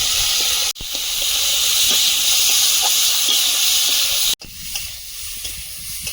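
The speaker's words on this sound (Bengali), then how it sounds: "ওই তেলে চিংড়িটা ভেজে নেব হলুদ গুঁড়ো লবণ" Prawns fry in hot oil with turmeric and salt, giving a loud, steady sizzling hiss close by, broken by two abrupt cuts.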